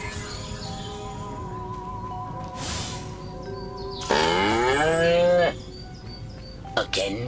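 A cartoonish cow from the Destroy All Humans! video game lets out a long, sliding moo, preceded by a short bleat and followed by a brief squeak, set over a faint ambient game bed.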